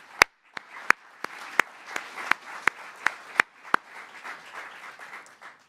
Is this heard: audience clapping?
yes